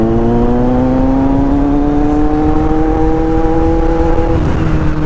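Kawasaki Z900 motorcycle engine running steadily while riding through Makati, a loud continuous drone with rising harmonic pitch as it accelerates, then a shift near the end.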